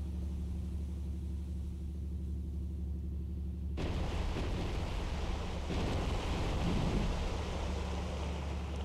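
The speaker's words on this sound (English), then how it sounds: "Some of our gunfire." Naval gunfire from the battleship Iowa in the Cold Waters naval combat game: a sudden broad booming burst under a steady low engine rumble, followed by a second rolling blast, loud and sustained.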